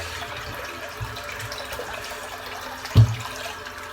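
A bathroom tap runs into the sink during a head shave, a steady, moderate water hiss broken by a single dull knock near the end.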